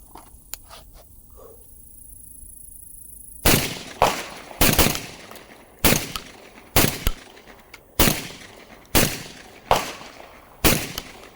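Beretta 1301 tactical shotgun fired in a steady series of about nine loud, sharp blasts roughly a second apart, each with a short ringing tail, after a few seconds of quieter handling clicks.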